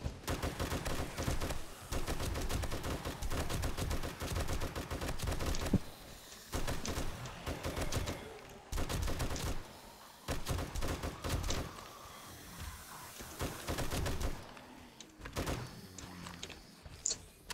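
Heavy bursts of automatic gunfire in the survival game 7 Days to Die, loud and sustained with brief pauses between volleys and a mechanical door-like clatter near the end.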